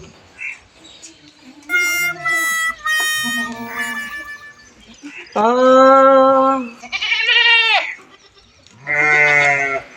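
Goats bleat loudly and close by, several wavering calls in succession with brief pauses between them.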